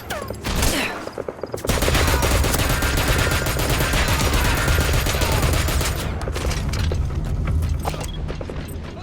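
Rapid machine-gun fire from the video game Metal Gear Solid V, a stronger 7.62-caliber weapon, rattles in dense sustained bursts with mechanical clatter, loud and continuous after a brief quieter opening.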